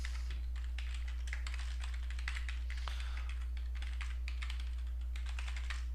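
Rapid, uneven clatter of keys on a computer keyboard as a name is typed into a sign-up form, close and dry over a constant low electrical hum, with no talking.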